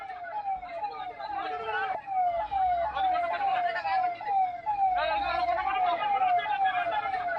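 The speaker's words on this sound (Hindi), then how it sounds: "एम्बुलेंस का सायरन आप सुन सकते हैं," An ambulance's wailing siren sweeps repeatedly in steady cycles at an airport after a plane crash in Kozhikode, Kerala, loud and continuous, with a faint murmur of crowd voices underneath.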